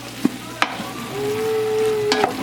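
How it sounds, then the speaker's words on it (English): Sausage for a seafood gumbo is stirred in a hot pot, sizzling steadily close by while a spoon knocks and scrapes against the pot a few times, with no talking. "add in my sausage and stir that up really well."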